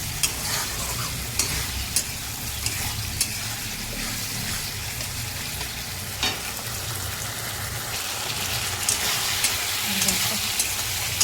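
Chilli chicken stirred in a pan as it fries, with a constant close sizzle and hiss under repeated scraping strokes and occasional sharp clicks of the spoon against the metal, steady throughout.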